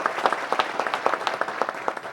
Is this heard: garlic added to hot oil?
no